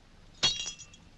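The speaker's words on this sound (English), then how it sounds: "Does it break because it is faulty or because it is glass?" A glass shatters in one sudden crash followed by a short tinkle of falling fragments, close and clear against a quiet room in a 1940s film scene.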